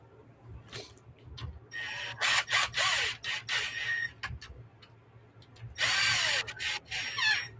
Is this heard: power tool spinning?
yes